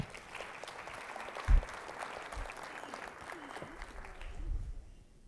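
Audience applause at an academy talk right after a personal story, a moderate wash of clapping across the room that builds a little and then fades out.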